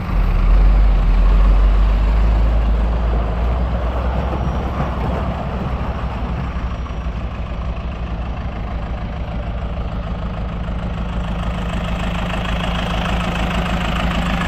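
A 2003 Merlo P3513 telescopic loader with a Perkins diesel engine idling nearby, giving a steady low rumble with a faint mechanical hum that barely changes.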